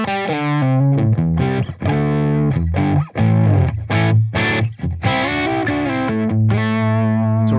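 A heavily distorted electric guitar, played through a ToneX amp tone model, plays a riff of chugging chords and sustained notes, loud, dry and up close with no other sounds.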